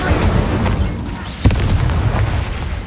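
Fiery spell blasts from Incendio and Confringo in the video game Hogwarts Legacy, a dense rumbling roar of explosions with one sharper burst near the middle, loud and continuous throughout.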